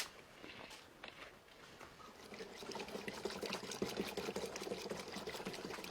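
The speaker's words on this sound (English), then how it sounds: "add 20 liters of water" Water poured into a spray mixture, diluted twenty liters to one liter of mix: a quiet start with faint handling noises gives way to a steady, splashing trickle and pour that grows fuller as the container fills.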